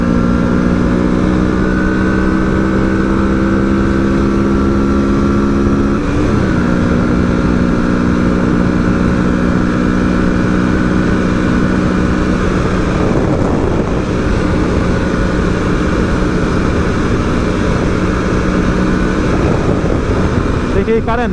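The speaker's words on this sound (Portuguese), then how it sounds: "porque o vento é muito forte aqui." Loud, steady wind roar buffets the microphone over a droning motorcycle engine that holds a constant pitch throughout the ride.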